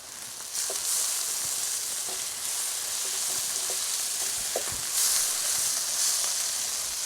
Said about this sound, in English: Takes a little time to cook the onions.